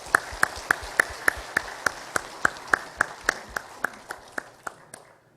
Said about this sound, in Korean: 다시 한번 우리 박수를 한번 하시죠.